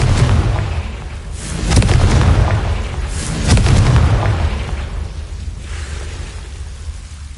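Confringo spell explosions in Hogwarts Legacy, a wizarding video game: two heavy fiery booms a couple of seconds apart, each rolling into a rumbling tail, loud and close over a continuous low background roar.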